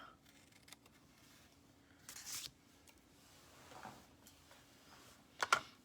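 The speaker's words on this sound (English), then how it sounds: "what do I do with my scissors? Turn it over and cut that little piece off there." Scissors snip a small piece off a handmade paper card, a few quiet, close cuts and rustles of card stock, ending in a sharper double snip near the end, with no talking.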